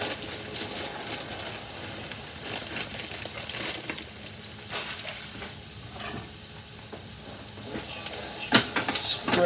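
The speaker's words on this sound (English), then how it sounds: "Hear the sizzle." Food sizzles steadily in hot oil in a soup pot, a dense continuous frying hiss with stirring scrapes, swelling louder near the end.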